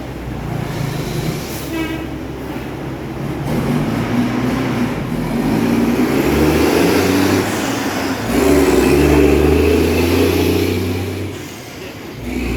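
A vehicle rolls past on a city street, a steady low rumble that swells and holds loud through the middle before easing off near the end, with no voices.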